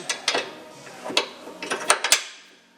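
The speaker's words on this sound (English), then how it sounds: "And put the locking pin back in." A locking pin pushed into a 72-inch John Deere mower deck on a 2520 tractor, a handful of close metallic clicks and clanks, uneven and brief, ending with a sharp final clack.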